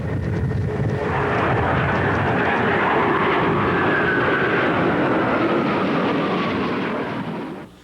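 Military aircraft from several service branches fly overhead in tribute above San Francisco Bay, a loud, sustained engine roar that holds steady for several seconds before fading out at the end.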